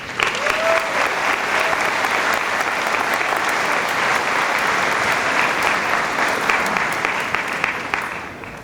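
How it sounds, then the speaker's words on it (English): A large graduation audience at a 2016 high school commencement claps for the parents, a dense, sustained wash of applause lasting throughout and fading slightly at the close. "please give our parents a round of applause for all that they have done"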